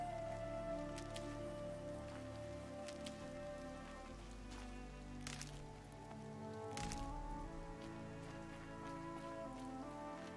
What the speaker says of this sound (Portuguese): Essa chuva é quase uma tromba d'água.